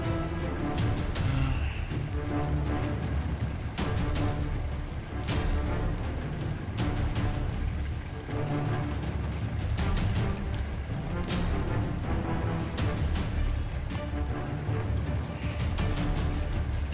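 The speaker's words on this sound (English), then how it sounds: "Oh, it's now it's raining." Steady rainfall in the video game Warlord Britannia, a dense continuous patter with scattered sharper drop hits and faint low rumbling, heard alone without talk.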